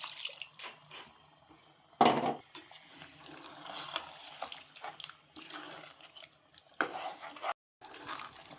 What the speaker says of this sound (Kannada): ನೀರು ಹಾಕೊಳ್ಳೋಣ.